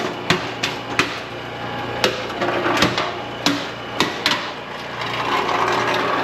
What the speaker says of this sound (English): I gotta move my vise.